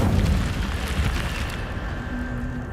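An Incendio fire spell cast in a wizarding video game bursts out in a loud whooshing roar that slowly fades into a low rumbling hiss with a faint tonal hum near the end.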